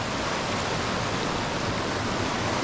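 A swollen mountain stream on Yosemite's Cathedral Lake Trail rushes after a giant thunderstorm, a steady broadband roar of water, loud and constant without voices.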